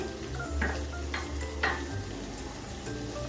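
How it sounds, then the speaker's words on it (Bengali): Paneer tomato masala sautéing in a pan, a steady close sizzle with occasional soft scrapes of stirring. "দু মিনিটের মতো কষিয়ে নিচ্ছি"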